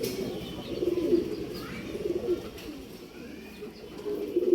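A male pigeon offered for sale coos repeatedly at close range in a low, rolling rhythm, with several coo phrases spread across the stretch and no voices.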